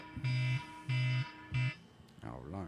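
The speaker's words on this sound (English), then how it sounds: "alarm scared the shit out of me" Three loud electronic alarm beeps sound in a steady rhythm, each about a third of a second long, followed by a short stretch of murmuring voice afterward.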